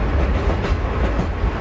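A subway train taken out of service rumbles along the rails, a loud, close, steady rolling roar from inside the car with faint clacking, no talking.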